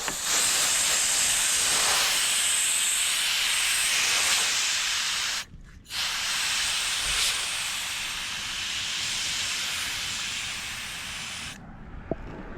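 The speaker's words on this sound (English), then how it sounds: "I'm blow drying the crack with compressed air." Compressed air blows steadily onto a cracked car windshield to dry it, a loud continuous close hiss with one brief break midway and another near the end, with no talking.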